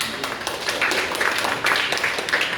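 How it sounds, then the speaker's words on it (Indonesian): An audience at a speech competition claps steadily, a dense patter of many hands at moderate volume filling the moment without a break. "dari Kalimantan Selatan lagi tepuk tangan ya"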